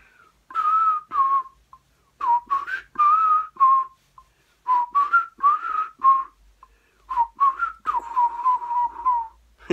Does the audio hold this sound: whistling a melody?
yes